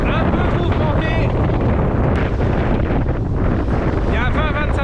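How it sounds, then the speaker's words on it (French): Heavy wind roars and buffets the microphone nonstop aboard a sailboat heading out on a cruise in Finistère in 20–25 knot winds against the current, with water rushing beneath and someone speaking French over the din. "Il y a 20-25 vents et je suis en train de prendre le boulet vent contre courant"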